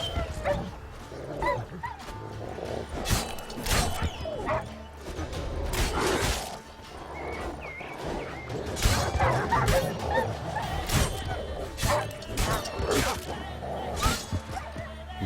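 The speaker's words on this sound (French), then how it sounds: "c'est les chiens, je suppose, c'est ça," Dogs barking and yipping in The Witcher 3: Wild Hunt, with repeated sharp barks and whimpers scattered across a busy game soundscape, fairly loud and close throughout.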